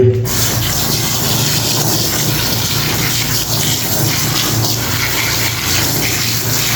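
Water gushes steadily and loudly into a bucket filled for washing clothes, a continuous close-up rush with no pauses.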